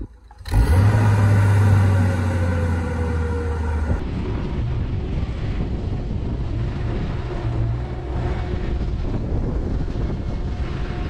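The Ford LRG-425 engine of a JLG 80HX boom lift roars up loudly from idle as the pedal is pressed, then holds a steady, rough, droning rev close by.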